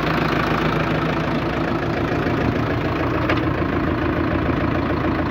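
A Sonalika 75 HP tractor engine idles steadily nearby, a continuous loud low chugging rumble with no talking.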